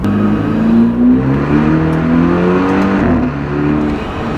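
BMW F30 sedan engine revving hard as the tires lose traction, a loud sustained rising and falling drone with harmonic whine held continuously for several seconds, close by with no talking.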